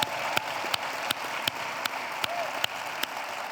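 An audience at a panel discussion on gender equality applauds the panelists. The applause forms a steady, even wash, with sharp individual claps standing out at regular intervals throughout.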